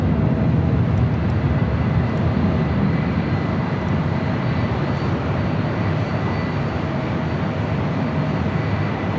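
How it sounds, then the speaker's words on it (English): A Lufthansa Airbus A350 jet bound for Munich takes off at LAX, its engines making a loud, continuous broadband roar that holds steady throughout without pause. "Lufthansa Flight 453 heading back to Munich in an A350 now lighting up"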